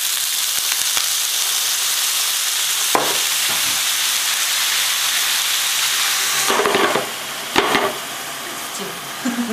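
Gyoza frying in a covered pan, a steady broadband sizzle and hiss of steam running throughout, with a few sharp clicks and a brief clatter of the lid or pan near the end.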